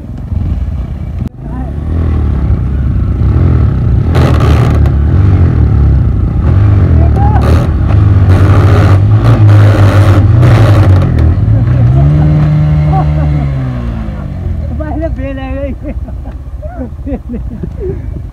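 A Bajaj Platina and a Honda CT 100 motorcycle race side by side, loud engines droning steadily close by before revving down and fading, with voices heard near the end.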